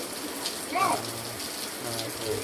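Steady rain falls in a soft, continuous hiss, with faint distant voices underneath.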